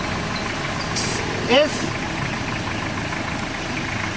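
A walking-type hand tractor, a kuliglig, idles nearby with a steady chugging drone. Someone speaks briefly over it, and a short high squeak cuts in once.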